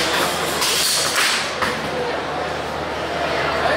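Two 3lb beetleweight combat robots collide in an arena match, with sharp impact bangs and clatter over a spinning weapon's hiss and noisy crowd, while a commentator talks over it.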